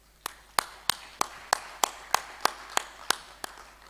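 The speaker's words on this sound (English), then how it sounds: "I think we can give ourselves a round of applause." Workshop audience claps in sparse, evenly spaced single claps, about eleven sharp hits over four seconds, fairly close and alone without talk, more like a slow rhythmic clap than full applause.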